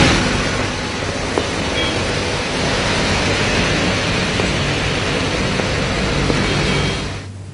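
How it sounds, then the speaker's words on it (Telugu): Heavy rain pours down in Chennai, a loud dense continuous wash of noise with a faint deep rumble, ending abruptly. "అటు తమిళనాడు రాజధాని చెన్నైలోనూ భారీ వర్షాలు కురుస్తున్నాయి."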